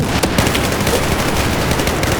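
Rapid, sustained machine gun fire in Battlefield 4 multiplayer, loud and close, with overlapping rattling shots and no talk.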